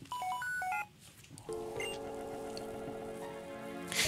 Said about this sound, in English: The ex-transceiver is ringing.